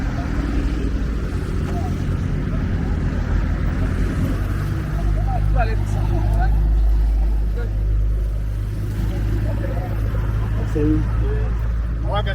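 BMW motorcycles pass along a roadside in Abobo, their engines droning steadily under someone talking nearby, with traffic noise throughout.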